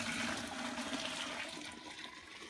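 Hot water pouring into a mash of grain while brewing a robust English porter, a continuous close splashing rush of liquid that fades slightly toward the end, with no voices.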